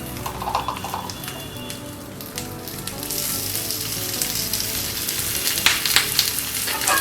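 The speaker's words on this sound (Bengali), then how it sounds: "এবার আমি ভেটকি মাছের পাতুরির জন্য সামান্য একটু তেল দিয়ে দিচ্ছি।" Bhetki fish paturi wrapped in banana leaf sizzles and fries in a little oil on a griddle, a steady close crackle that grows slightly busier, with no talk.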